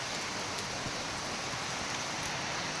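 Rain falls steadily and evenly, an unbroken hiss of drops that stays constant throughout with no voices.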